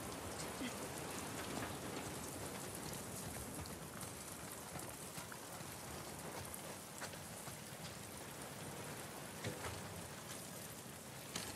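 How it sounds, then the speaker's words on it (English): Steady rain pours down in the video game The Last of Us Part II, a dense, continuous hiss of drops striking surfaces nearby that holds at an even level throughout. "Get out of the rain."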